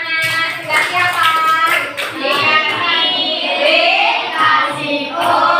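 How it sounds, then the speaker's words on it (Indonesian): A classroom of children claps their hands together in a bright, rapid patter that runs throughout, with children's voices and a teacher talking over it. "tepuk tangan anak-anak"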